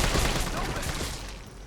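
Dense, sustained burst of gunfire in the Resident Evil 3 Remake video game, loud and continuous, with a voice talking over it.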